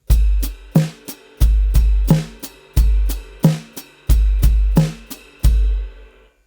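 A drum kit plays an ostinato groove for a worship song: punchy kick and snare hits with ringing cymbals repeat in a steady, even pattern, close and loud with no voices.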